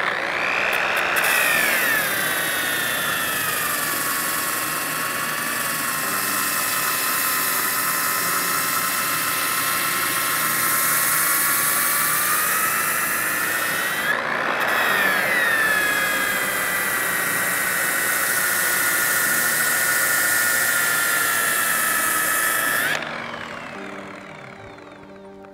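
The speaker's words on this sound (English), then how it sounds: "The tire's getting gummed up and it'll grab the sander." A power sander works against a rubber tire, giving a steady, loud, high-pitched motor whine that wavers in pitch, dips briefly midway and then cuts off, leaving a fading spin-down.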